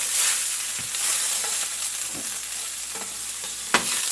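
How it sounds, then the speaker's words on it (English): Eggs frying in lots of butter in a pan, a continuous bright sizzle with a few soft scrapes and clicks of stirring scattered throughout. "I'm going to throw some eggs now"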